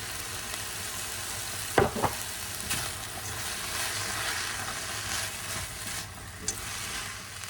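Ground meat, onion, potatoes, and frozen peas and carrots sautéing for a hamburger soup, producing a steady moderate sizzle with a couple of sharp spoon scrapes and knocks against the pan.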